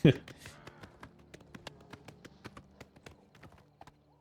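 Horse hooves clip-clopping in the video game Oblivion, a steady run of sharp taps at a modest pace, close and fairly clear, with a voice speaking at the start.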